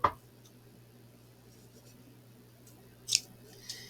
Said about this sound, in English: I'm going to snip this off.